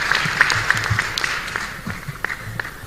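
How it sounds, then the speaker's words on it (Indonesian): An audience applauds for the Indonesian Air Force at a comedy performance, a short steady patter of many hands clapping in a large hall. "Tepuk tangan buat Angkatan Udara kita."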